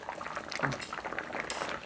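Pollock stew broth with radish simmers in a pot, giving soft, irregular bubbling and gurgling close by at low volume, with no talk over it.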